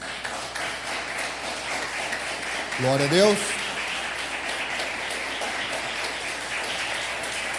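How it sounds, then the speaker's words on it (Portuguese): Church congregation applauding the Lord Jesus: steady, dense clapping fills the whole stretch at moderate level, with a voice briefly calling out in the middle. "Aplauda o Senhor Jesus"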